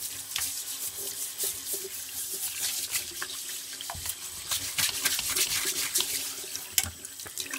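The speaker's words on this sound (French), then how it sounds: "Il n'y a plus qu'à laver l'évier." Water runs steadily from a tap into a kitchen sink as it is rinsed after unclogging with baking soda and vinegar, a continuous hiss with clinks and splashes throughout.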